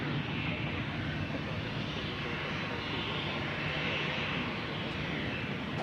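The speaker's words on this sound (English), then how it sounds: "I believe the Amazon has turned their engines on over there." An Amazon cargo jet sits with its engines running at Nashville International Airport, giving a steady, broad roar with a faint whine, heard from a distance without speech.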